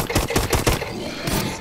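Rapid bursts of gunfire from Call of Duty Advanced Warfare in Exo Zombies mode, roughly four sharp shots in quick succession, loud and close, with a busy game background.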